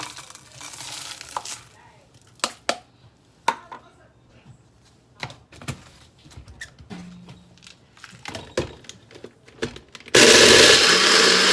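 A blender makes a green smoothie with crushed ice: first scattered clinks and clattering knocks as ice and ingredients go in, then the motor suddenly roars up loud and steady at the very end.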